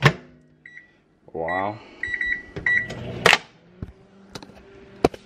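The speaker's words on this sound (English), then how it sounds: "Pop that lid off, throw it in the microwave for like, I don't know," A microwave oven heating leftover chicken: a door thump, keypad beeps, a whirring hum while it runs, then completion beeps and the door clicking open, with brief speech at the start.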